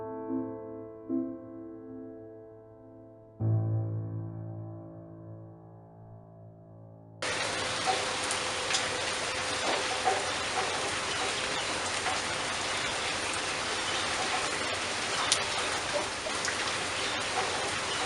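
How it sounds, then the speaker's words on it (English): Heavy rain starting suddenly during a thunderstorm, a dense steady hiss of drops falling outdoors that continues unbroken after a few quieter moments of other sounds. "It just started to rain and it is now thundering"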